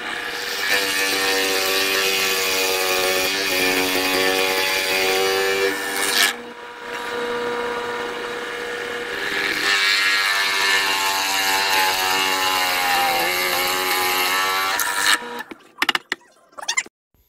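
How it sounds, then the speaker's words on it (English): An old Forstner bit bores holes in wood for a wine rack, a loud continuous grinding drone with a brief pause midway and a few clunks at the end. "I'm going to drill those out using this old Forstner bit."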